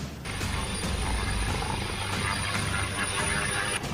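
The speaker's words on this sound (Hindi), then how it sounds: "हेलीकॉप्टर की लैंडिंग के वक्त हवा में उड़ने लगा कचरा" A helicopter attempting to land, carrying former Karnataka chief minister B.S. Yediyurappa, gives a loud, steady rotor roar with rhythmic thumping and wind noise throughout, close and dominant, with no voices.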